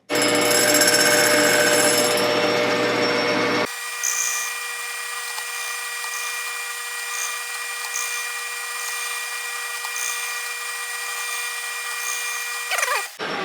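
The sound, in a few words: drill turning a pulley chucked on a bolt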